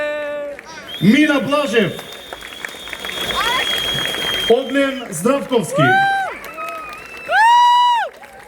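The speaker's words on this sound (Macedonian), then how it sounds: "да ги поздравиме со најгромогласен аплауз" A stage concert audience in Prilep claps and cheers for the performers, a sustained wash of applause rising and falling while an announcer speaks over it.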